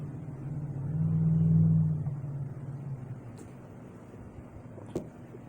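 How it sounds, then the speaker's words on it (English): Loud car revving as it rolls past, its engine swelling to a peak early on and fading as it moves away, followed by quieter road background and a brief sharp click near the end. "You see that loud revving car just rolled past?"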